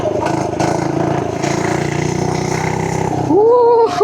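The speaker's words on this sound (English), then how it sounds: "as you guys can hear the engine with the stock muffler" FRP GMB100 mini bike with its stock muffler, a small single-cylinder engine buzzing steadily and close, rising in pitch as it revs up near the end.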